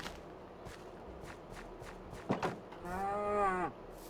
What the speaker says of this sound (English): I hear a cow behind me.